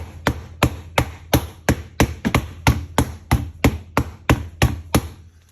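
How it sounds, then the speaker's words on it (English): Repeated firm whacks of a rolling pin smacking a butter block, roughly fifteen quick, even blows close up, with no voices. "So I'm just going to keep smacking it here."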